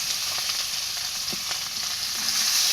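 Fish hit hot oil and fry with a loud, continuous sizzle, broken by a few sharp crackles and pops close by.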